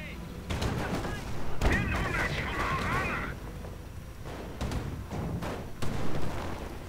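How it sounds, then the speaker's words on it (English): An Ostwind anti-aircraft tank fires at Stuart tanks in a World War II strategy game, with repeated rapid gunfire bursts and distant battle noise forming a dense, steady barrage. "Ostwind continuing to fire away at those Stuarts, but not doing much."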